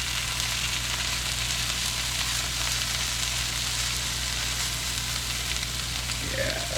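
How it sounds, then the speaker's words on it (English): Corned venison hash sizzles steadily in a hot pan, a continuous bright frying hiss, close and even throughout with no talking. "Oh yeah, more sizzle over here."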